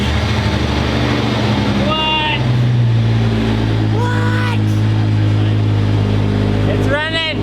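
A homemade Scorpion 2.0 vehicle's engine cranks and runs with a loud, steady drone close by, while people talk and exclaim over it.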